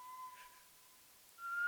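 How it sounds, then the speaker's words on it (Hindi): Someone whistles a thin, steady high tone that holds for over a second, breaks, then returns slightly higher and louder, heard alone in a quiet indoor space. "लगता है कोई सीटी बजा रहा है"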